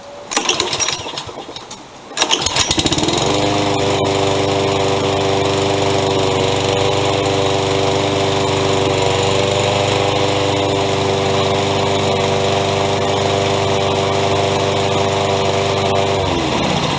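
A Toro lawn mower engine sputters briefly, then catches and settles into a loud, steady running drone with a constant pitch, close up and continuous for over ten seconds with no talking.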